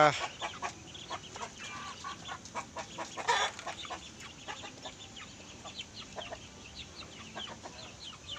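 A flock of backyard chickens clucks in bursts near a home plot that also holds ducks and quail, with one louder squawk among the clucks and a steady background hiss.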